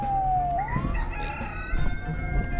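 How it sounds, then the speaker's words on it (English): A chicken gives a drawn-out crowing call, its falling-then-rising pitch sliding over a dense background of other noise, followed by clucking sounds. "It's a chicken?"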